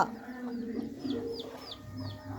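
Hen clucking in a backyard at home, a few short calls in a loose rhythm over steady low background noise, no voices.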